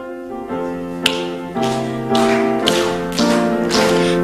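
A church congregation claps along in steady rhythm to a sung hymn at a Sunday worship service, the sharp claps landing evenly over sustained organ-like music.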